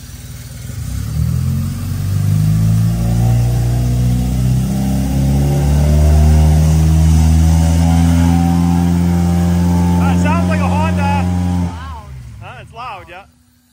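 An Acura Integra with a K20 engine swap running at a low idle, a steady, loud mid-pitched engine hum held for about twelve seconds before cutting off abruptly, with people talking near the end.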